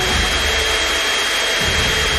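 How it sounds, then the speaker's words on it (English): A cartoon vacuum cleaner roars at full power, a steady loud broadband whoosh like a jet engine that keeps going without pause, with no voices heard. "Vacuum cleaner."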